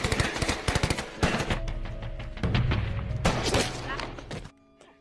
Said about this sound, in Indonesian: mereka bertemu dengan beberapa tentara Jepang, dan baku tembak pun tak terhindarkan